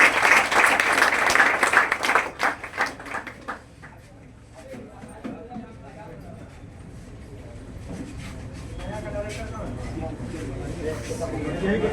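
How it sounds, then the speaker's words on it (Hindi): A brief burst of audience applause for a teacher fills the opening seconds, loud and dense, then fades quickly into a quieter room with a voice speaking. "आप सर के लिए ताली हो जाए"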